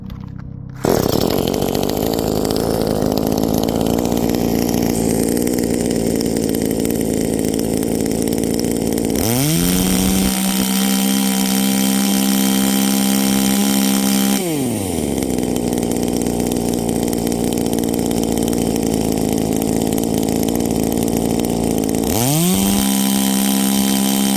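A Farmertec G2511 Echo-clone chainsaw runs close and loud for the whole stretch, mostly at a slightly high idle. Twice it revs to a steady high-pitched scream, then each time drops back down to the idle, with no talking.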